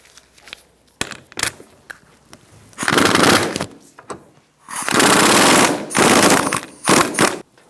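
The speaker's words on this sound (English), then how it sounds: "And I'm going to take off this nut." A rusty nut on a 2007-2017 Ford Expedition air spring is worked loose with an offset box wrench and a 1/4 inch ratchet, heard as loud, rapid rattling bursts broken by short pauses and sharp individual knocks, up close.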